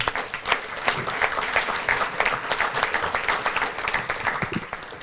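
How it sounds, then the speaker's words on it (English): Members at a regional Chamber of Commerce event applaud, a thinner crowd of distinct hand claps that continues steadily and fairly close throughout. "Let's give these members a round of applause as well."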